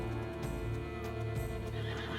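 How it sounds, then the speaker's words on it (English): A horse in the video game The Witcher 3 gives a clear whinny over a steady game ambience, with a faint hoof clop in the background. "It's a horse."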